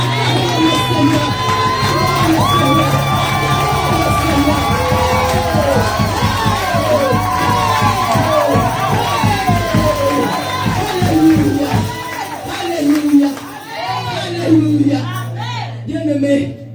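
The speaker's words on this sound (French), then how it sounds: "Bien-aimés, acclamons le Seigneur. Acclamons le Seigneur." A large crowd at an evangelism crusade cheers and shouts in praise, loud and sustained, with whoops and raised voices swelling then tapering off.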